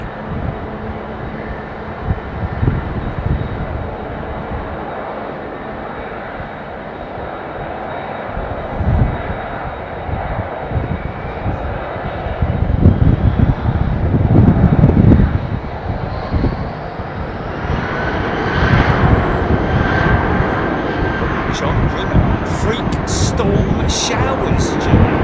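A loud, steady roar of a British Airways jet airliner's engines at London Heathrow Airport fills the air, swelling in the middle, with wind buffeting and someone talking over it.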